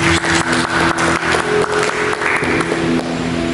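A church congregation applauds for Jesus during a sermon, dense steady clapping throughout, loud and close, with a sustained musical tone from keyboard or organ running underneath.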